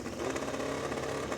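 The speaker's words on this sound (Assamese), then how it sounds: "একো নোকোৱাকৈ সি হস্পিটেলৰ পৰা ওলাই বাইকখন ষ্টাৰ্ট দিলে।" A motorcycle engine running in a dramatized scene, a steady mid-level engine drone heard on its own without any voices.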